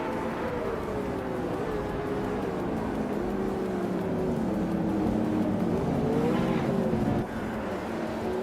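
Race cars roaring around Barcelona National in a racing game, a 2010 Lamborghini Gallardo Superleggera leading the pack; a steady, loud engine drone with shifting pitch runs throughout, swelling briefly near the end.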